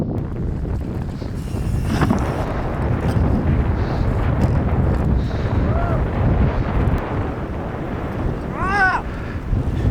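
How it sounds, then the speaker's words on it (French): Strong wind blowing in Iceland, loud buffeting gusts roaring into the microphone continuously, with brief faint squeaky tones near the end. "Ça glisse et le vent nous tire des claques."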